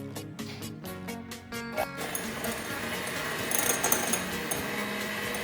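An electric mixer whirs close by, whipping five egg yolks with a quarter cup of granulated sugar, with a choppy rhythmic start before it steadies into a continuous buzzing drone.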